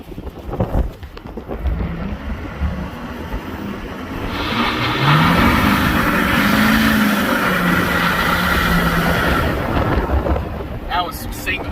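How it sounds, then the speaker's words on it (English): A 6.7 diesel truck revs hard with a tire spinning. A loud, broad engine roar swells and holds with a rising tone, then fades near the end. "It was a little bit on that one tire, mostly this tire that was spinning."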